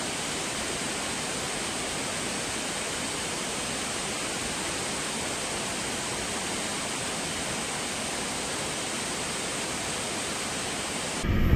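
A waterfall in a cavernous space on Bohol roars as a loud, unbroken wash of white noise that holds steady from start to finish.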